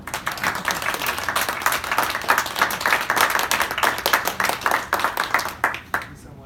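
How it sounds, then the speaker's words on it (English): A lecture audience at a magic event applauding in tribute to Johnny, a crowd of hands clapping rapidly and continuously for several seconds before tapering off at the end, fairly close. "we should all clap to Johnny"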